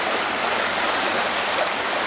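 The Maas river flows underground through a cave passage, a loud, dense, continuous rush of water with no breaks.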